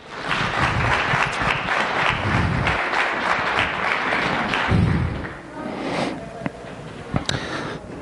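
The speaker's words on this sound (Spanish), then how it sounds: "Dale un aplauso al Señor si quieres dar." A church congregation breaks into loud, dense applause with scattered heavy thuds, sustained for about five seconds before thinning into a few fainter, sporadic claps and knocks.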